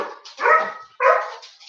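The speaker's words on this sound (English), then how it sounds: "Sorry for all the barking." A dog lets out two loud, close barks about half a second apart, each with a brief yelping edge, indoors with no other sound.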